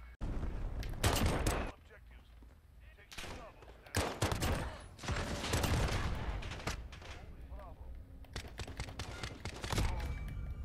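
Renetti pistol fire in the video game Call of Duty: Modern Warfare, loud rapid bursts of gunshots in several clusters, mixed with other game gunfire and effects, with a voice talking over it.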